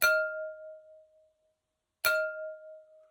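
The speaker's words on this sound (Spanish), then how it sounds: "Este es el sonido de una copa de vidrio." An ordinary glass wine glass is tapped twice, two seconds apart: each strike makes a clinking ding that dies away in just over a second, with silence between the hits.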